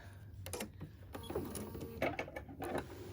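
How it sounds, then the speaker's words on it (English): Sewing machine back stitching on a fabric project bag, a few short stop-start bursts of whirring stitching, close and moderately quiet, with no talking. "And then I'm gonna stop and back stitch."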